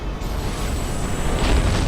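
A ship's secondary explosion in the space combat game Strike Suit Zero: a loud, sustained, rumbling boom with crackling noise that swells slightly toward the end, without speech.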